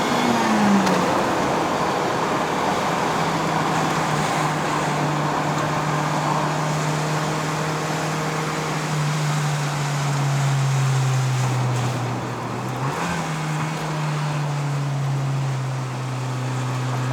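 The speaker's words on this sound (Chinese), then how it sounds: "其实它的引擎本来就是这么大声，没有改过 exhaust 是不是？" A Toyota Corolla AE92 with a 4A-GE 16V Red Top engine and modified exhaust is driven on a mountain climb in Malaysia. It gives a loud, steady, close engine drone that holds throughout, with a brief dip and rise near the end like a gear change.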